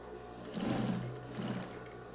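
A sewing machine stitches a patchwork rug with folded fabric points in a mandala pattern, running in two steady bursts of humming motor noise close by, with no talk.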